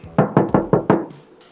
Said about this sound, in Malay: Pintu ni confirm sebab bila kita ketuk